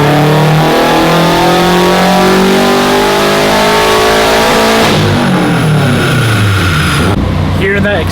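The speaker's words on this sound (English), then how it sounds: "Hearing that external gate crack open sounds so freaking good." Turbocharged Subaru WRX with an STI engine swap revving hard on a dyno, loud sustained engine roar with pitch sweeps, then the external wastegate cracking open with a sharp hissing release near the end.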